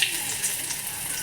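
Garlic frying in a spoonful of coconut oil, a brief, close, steady sizzle with a soft crackle.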